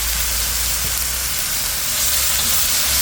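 Beef browning in a pan for a quick beef soup seasoned with fish sauce, giving a loud, steady, close sizzle with a hissing steam texture that runs unbroken, with no talk.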